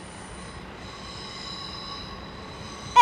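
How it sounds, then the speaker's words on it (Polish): An Elf 2 electric passenger multiple unit rolls into Katowice station with a steady droning hum and high whining tones. A sharp wheel squeal breaks out right at the end. No one speaks. "I mamy wjazd elfa drugiego jako pociąg."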